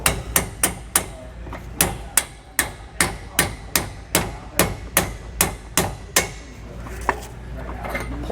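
A hammer strikes a trailer suspension bushing on a tandem axle in about fifteen sharp metallic blows at a steady, brisk rhythm, close and loud, then a couple of fainter knocks as the hammering stops.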